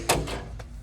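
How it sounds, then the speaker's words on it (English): The fuel door of a 1966 Chevrolet Impala SS hardtop handled up close, a short sharp click followed by a softer second knock and a faint third tap over a quiet low hum. "Even got the fuel door here."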